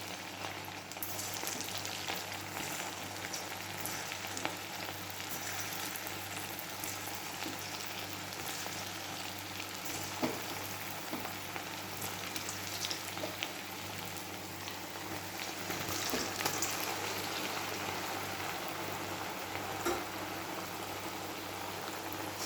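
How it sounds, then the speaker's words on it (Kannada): Potato bites deep-fry in hot oil, giving a continuous, even, rain-like bubbling hiss that holds steady at moderate volume for over twenty seconds. "ಈಗ ಇದನ್ನು ಎಣ್ಣೆಯಲ್ಲಿ ಹಾಕ್ಕೊಂಡು ಫ್ರೈ ಮಾಡ್ಕೊಳ್ಳೋಣ"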